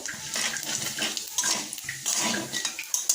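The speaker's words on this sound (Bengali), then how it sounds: "দিয়ে দিচ্ছি পাঁচ ফোড়ন কুড়ি সেকেন্ডের মতো একটু নাড়াচাড়া করব" Whole five-spice seeds are stirred in a hot cooking pan, making a busy run of metallic scraping, clinking and light crackling at close range.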